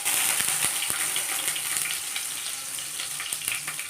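Garlic dropped into hot oil for a drumstick curry sizzles and fries steadily up close, a bright crackling hiss with small pops and occasional stirring.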